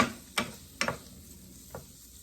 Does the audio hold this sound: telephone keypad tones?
no